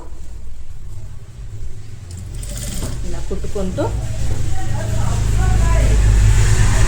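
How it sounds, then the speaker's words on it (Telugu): Sewing machine stitching a curved neckline on a halter neck kurti, its motor whirring up to a steady, increasingly loud run after a quieter start, with a voice talking over the beginning. "ఆ షేప్కి కర్వ్గా కుట్టుకోవాలి. ఇలా కుట్టుకుంటూ"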